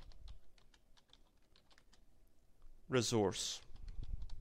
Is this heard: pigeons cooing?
no